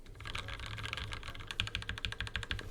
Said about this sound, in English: I'm loving the sound of the keyboard